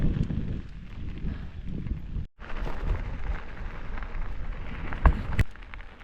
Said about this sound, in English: It's kind of raining a little.